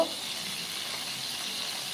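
A soft, steady sizzle of shrimp frying in hot oil, continuous and fairly quiet throughout.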